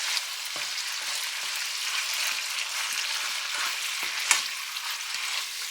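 Ramen noodles frying in a pan over low to medium heat, a continuous bright sizzle with scattered crackles and soft stirring scrapes, close and steady, no talking.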